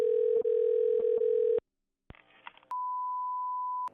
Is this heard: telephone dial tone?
yes